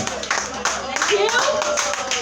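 Clapping breaks out at a casual live online hangout, steady hand claps that hold at moderate loudness while voices talk over them.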